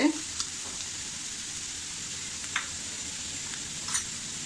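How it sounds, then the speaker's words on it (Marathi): Onion with Malvani masala and turmeric sautéing in a pan over medium heat, making a continuous close sizzle with a few light stirring scrapes, and no one speaking. "अर्धा चमचा हळद, हे सुद्धा आपण व्यवस्थित असं परतून घेऊ."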